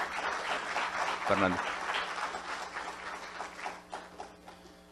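Audience applause welcoming a historian at a parliamentary event, a steady crowd clapping that fades gradually toward the end, with a brief spoken name over it early on.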